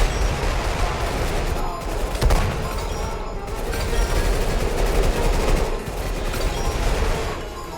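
Gunfire in the Roblox shooter Weird Gun Game, a dense, continuous rattle of rapid shots and bursts from several weapons at once, loud and close throughout.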